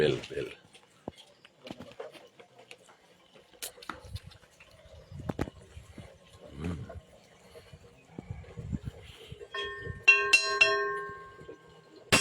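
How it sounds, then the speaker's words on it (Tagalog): Bell ringing at dawn in a village in Lubuagan, Kalinga, a bright ringing tone with harmonics rising near the end of the clip over soft ambient noise and occasional clatter. "bell."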